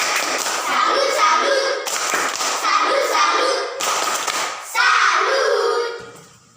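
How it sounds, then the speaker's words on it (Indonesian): A classroom of students claps a patterned salute for two classmates, bursts of loud, close hand claps in several rhythmic groups with children's voices chanting along, fading out at the end. "Tepuk salut dulu untuk mereka berdua dulu. Ya, tepuk salut."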